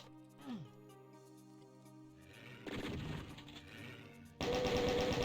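Chaingun fire in Doom, rapid bursts of game gunfire that start partway through and grow louder, heavy and dense by the end, over ambient game tones.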